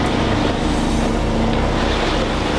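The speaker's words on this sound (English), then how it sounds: "I've got the engine going just about full throttle" A boat engine runs near full throttle at sea, a loud, constant low drone with a steady hum, mixed with rushing water and wind and no pause throughout.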